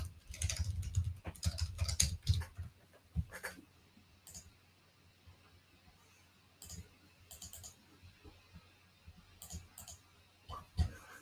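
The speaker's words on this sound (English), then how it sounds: "I'm going to be typing an email over here" Someone typing an email on a computer keyboard, quick clusters of close, crisp key clicks in bursts separated by short pauses, with a quiet room hum underneath.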